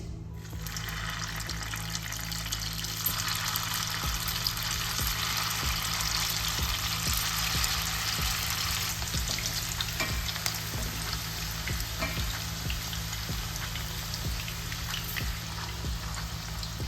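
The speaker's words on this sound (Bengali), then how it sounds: "চিকেন কোপ্তাগুলো এবার ভেজে নিচ্ছি।" Chicken kofta sizzling in hot oil in a pan, a steady, loud frying crackle with a low hum underneath, continuous throughout with no talking.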